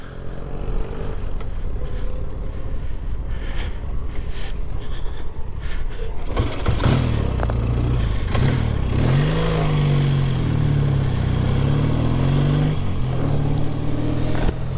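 1958 BSA A10 650 motorcycle riding off after a stall, wind-buffeted engine noise swelling into a strong pulsing rumble as it pulls away and accelerates, close to the microphone with no talk.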